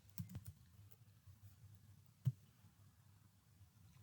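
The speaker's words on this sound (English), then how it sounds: "I'm going to type in my key term business and run a search." Light, quiet clicks of typing on a computer keyboard, a few scattered keystrokes with one sharper tap, close and faint against a low hum.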